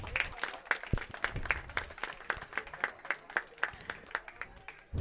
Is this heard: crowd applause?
yes